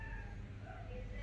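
A cat meows close by in a short burst, with a steady low hum underneath and no speech.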